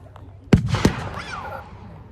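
Artillery and mortar fire at an outdoor WW2 re-enactment over farmland, with 25-pounder field guns: two heavy booming blasts in quick succession, with a rumbling echo rolling away afterwards.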